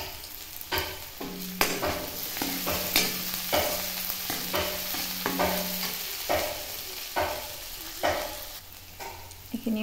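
Ginger sizzles in hot oil in a pan on a home cooking fire, with repeated sharp scraping stirs at an uneven rhythm over a continuous frying hiss, close and fairly loud, no voices.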